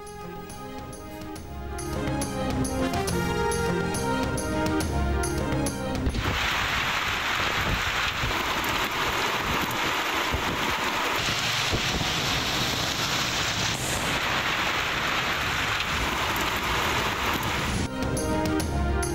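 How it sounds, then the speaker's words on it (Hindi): Heavy downpour driven by strong winds in Islamabad, a dense, roaring wash of rain and gusts that fills the whole stretch loudly, with music playing at the start and end. "इस्लामाबाद में तेज हवाओं के साथ मूसलाधार बारिश।"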